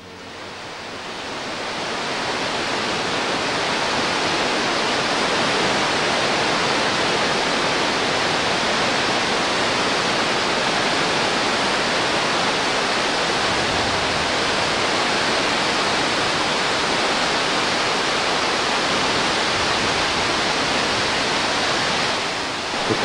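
River rapids in Nepal, a dense continuous roar of rushing white water that swells in over the first few seconds and then holds loud and steady, with no voices.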